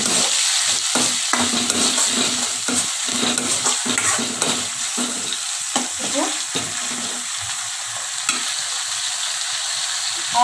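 Crushed ginger, garlic and green chillies sautéing in a pan for a plain kurma: a loud, continuous sizzle broken up by frequent scraping and stirring strokes of a spoon against the pan.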